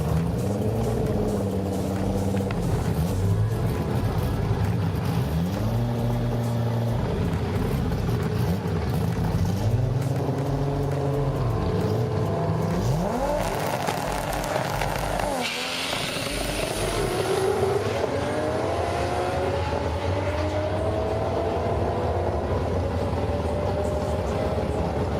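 A small green VW Polo drag car revs and accelerates hard during a quarter-mile pass at Bug Jam, its engine climbing through repeated gear changes, loud and close, then fading as it pulls away.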